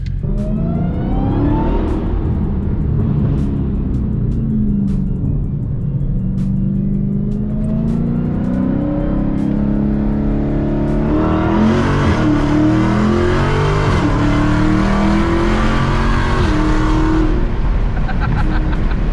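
A 2016 Dodge Challenger Hellcat engine rumbles steadily, then revs hard and roars louder for several seconds before easing back, with no voices.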